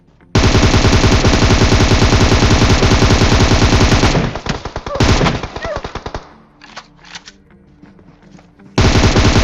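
Sustained rapid automatic gunfire from M4 and Barrel guns in PUBG Mobile, one loud continuous burst for several seconds, then scattered shots and a pause before another loud burst resumes.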